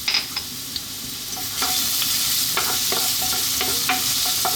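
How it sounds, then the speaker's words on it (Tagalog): Garlic sautés in hot cooking oil in a pan for a pork tomato stew, a steady bright sizzle broken by scraping stirs and clinks of the spatula, close up with no talking. "starting off with the garlic, just going to get it slightly brown"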